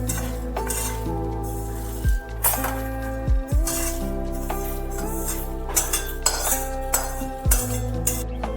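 Steel utensils clink and scrape against metal bowls as a spice mixture is poured into a bowl in a home kitchen, with several sharp knocks and ringing tones over a steady low hum.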